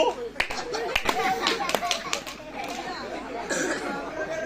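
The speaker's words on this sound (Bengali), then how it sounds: "চল বেটার একটু তালি মার আমার মতো" Hands clapping in a sharp, irregular series of claps amid lively chatter and a voice close by.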